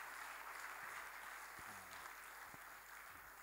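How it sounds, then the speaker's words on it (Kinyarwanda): Church congregation applauding during a Rwandan worship service, a steady, dense wash of clapping that holds evenly throughout without pause. "Imana tuyongera amashyi cyane cyane"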